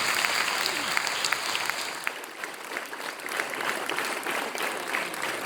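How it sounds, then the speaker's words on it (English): A hall audience at a Shakespeare competition awards presentation applauds a judge with continuous, even clapping that carries through the clip at moderate level. "A big round of applause for her, ladies and gentlemen."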